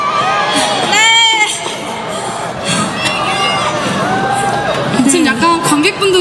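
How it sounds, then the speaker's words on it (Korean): A crowd at a university festival concert cheers and shouts for a K-pop girl group, high excited voices rising in bursts around a nearby speaker's microphone talk, loud and lively. "지금 약간 관객분들 환호도 너무 좋고 너무 호응을 많이 해줘가지고"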